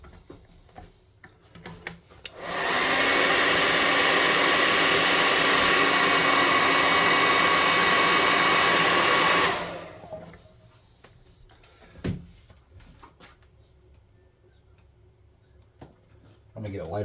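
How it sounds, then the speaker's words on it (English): A hot air gun blows on a painted miniature mushroom planter for a tabletop RPG, a loud steady roaring hiss lasting about seven seconds that starts and stops abruptly, followed by quiet handling noises. "Let's hot air gun this."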